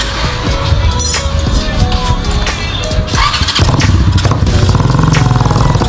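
A loud Keeway Cafe Racer 152 or Benelli Motobi Evo 200 motorcycle engine rumbles and revs up, its growl rising and holding steady, close by with a voice briefly heard under it.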